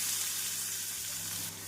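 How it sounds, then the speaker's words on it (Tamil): Chopped onion fries in hot oil with cumin and fennel seeds, giving a soft, steady sizzle with no voices. "எண்ணெய் காயவும் 1 ஸ்பூன் ஜீரகம், 1/2 ஸ்பூன் சோம்பு நன்றாக பொரியவும் பொடியாக நறுக்கிய வெங்காயத்தை சேர்த்து விடலாம்."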